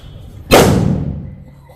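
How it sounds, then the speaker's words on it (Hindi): A single sharp Diwali firecracker bang bursts out suddenly, then rumbles and fades over about a second. "ऐसे धमाके इनसे डर लगता है।"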